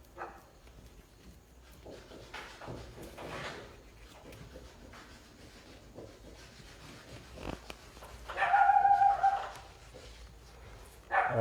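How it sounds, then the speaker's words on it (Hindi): Dogs barking outside, distant and faint, with a louder burst of barking or whining after a quiet stretch of low background noise, then a brief final yelp. "डॉगी क्यों चिल्ला रहे हैं?"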